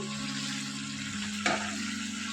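Paneer with green chilies simmering uncovered in a pan, a steady low bubbling sizzle throughout with one brief clink of a utensil midway.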